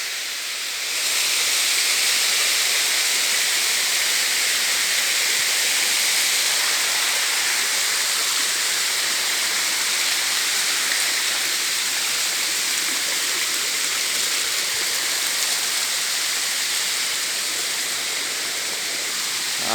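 Water pours over a village dam in a loud, unbroken rushing hiss that holds steady throughout, close and alone.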